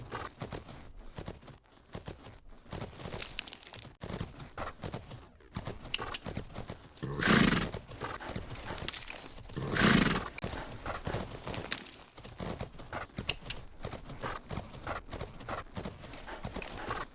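A horse in a video game clip-clops steadily at a walk and gives two loud neighs partway through, under soft game ambience.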